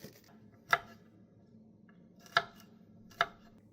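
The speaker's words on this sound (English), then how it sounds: "First, you can chop some onions, ginger, and some garlic." Three sharp knife chops on a cutting board, cutting onions, ginger and garlic, spaced irregularly, with quiet kitchen background between them.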